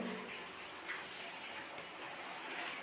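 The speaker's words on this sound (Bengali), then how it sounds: "আমার হালকা মতো জল দিয়ে দিচ্ছি" A little water poured into a catla fish curry with tomato and onion, a soft, quiet, continuous splashing gush heard close with no talking.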